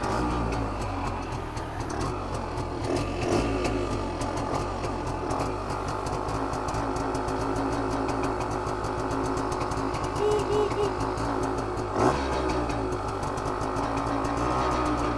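A 1968 Montgomery Wards Riverside kick-start motorcycle idles steadily while warming up, its engine running close and even in a continuous chugging drone with a brief dip near the end.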